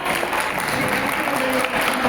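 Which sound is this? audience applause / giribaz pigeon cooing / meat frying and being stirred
audience applause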